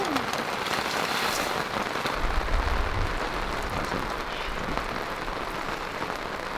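Pouring rain drums steadily on an awning at a campsite on a Tasmanian four-wheel-drive trip, a dense continuous patter with no talk over it.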